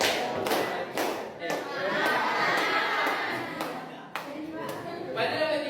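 A classroom of pupils claps in unison during a counting clapping game led by a teacher, with sharp group claps ringing out amid lively children's voices and chatter.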